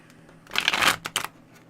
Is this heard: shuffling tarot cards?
yes